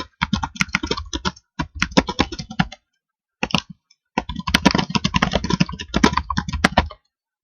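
Rapid clattering keystrokes on a computer keyboard, close and clear, in several bursts separated by brief pauses.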